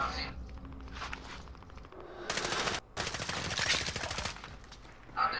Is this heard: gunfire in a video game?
yes